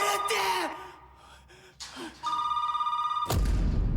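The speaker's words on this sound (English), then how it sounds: "He is now being haunted by the constant ringing of a phone that no one else seems to hear" A telephone bell rings in sustained electronic bursts amid gasps and moaning sounds, then gives way to a sudden loud rumble at the end.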